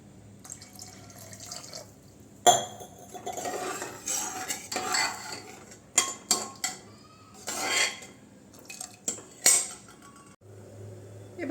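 Water being poured and stirred into boiled dal in a metal pot, with ladle and utensil clinks, scraping and splashy pours coming in bursts, close and fairly loud, with no talking.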